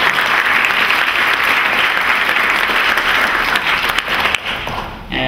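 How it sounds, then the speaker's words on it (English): An audience at a student induction ceremony breaks into steady, full applause for a graduate student, holding strong before thinning out near the end. "So one round of applause for her."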